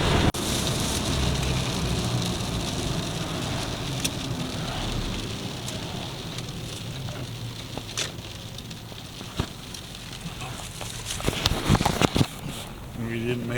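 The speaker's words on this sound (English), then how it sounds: "And we didn't beat the rain. It's coming down pretty steady right now." Steady rain falls at a lake boat ramp, a continuous dense patter on surfaces with a few sharper drops and knocks near the end; no talking over it.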